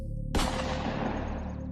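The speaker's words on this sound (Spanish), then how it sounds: "después varios disparos" A sharp gunshot effect cracks out after a brief low tone, followed by a rumbling reverberant tail that fades over more than a second, set within a spoken horror tale of shots heard from a rural hillside.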